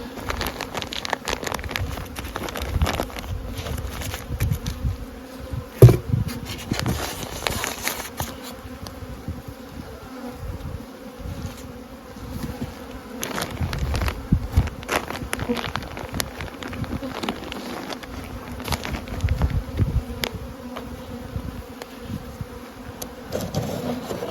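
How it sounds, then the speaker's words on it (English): A steady, low buzzing of many bees at a hive's bottom entrance, continuous and close, with faint outdoor background and one brief knock partway through. "we've got bees coming in the bottom entrance"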